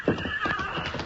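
Horses' hooves clip-clop in a steady rhythm on a Gunsmoke old-time radio drama sound effect, close and fairly loud, with a faint whinny mixed in.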